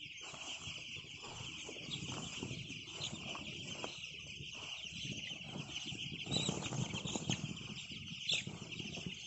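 Chickens crowd a poultry farm shed at night, a steady low murmur of clucks with occasional wing flaps and sharper calls rising near the end, close and continuous without speech.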